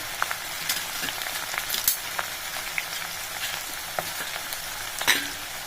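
About a hundred grams of crushed garlic and a handful of dried red chillies, broken in halves, frying in hot oil, giving a steady crackling sizzle with scattered sharp pops throughout.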